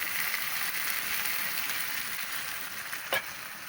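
Onion and tomato frying in a pan, a steady soft sizzle with a single brief clink near the end.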